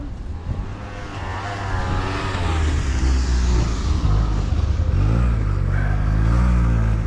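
A 1954 Plymouth Savoy engine runs steadily while the car drives, a loud continuous rumble that swells slightly as it pulls, heard from inside the cabin.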